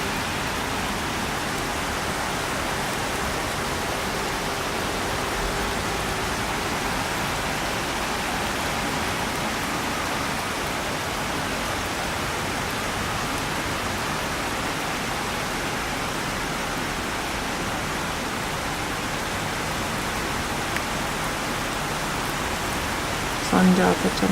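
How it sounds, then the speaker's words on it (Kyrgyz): Steady summer rain falling over foggy Moscow, a dense even hiss of drops that holds unbroken throughout with no other distinct sounds. "Жамгыр жаап атат, ак жамгыр."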